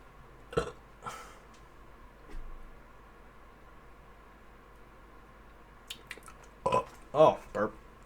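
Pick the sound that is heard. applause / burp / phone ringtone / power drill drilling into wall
burp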